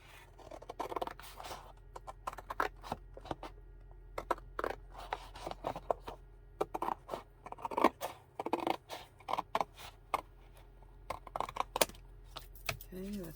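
Scissors snip through paper in short bursts of crisp cuts, close and fairly quiet, as a junk journal spine is trimmed along marked lines, with brief pauses between the cutting runs.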